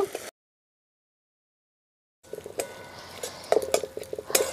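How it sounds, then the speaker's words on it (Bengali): Spice paste with green chili paste is stirred in a pan, giving light scraping and clinking of a utensil against metal, faint and close, after a brief silent gap. "আবারও আমি একটু মশলাটা নেড়ে নেব।"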